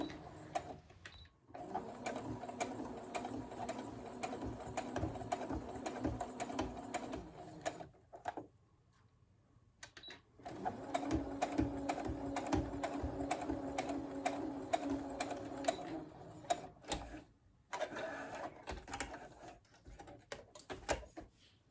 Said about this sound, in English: So you're going to want to back stitch over that again too.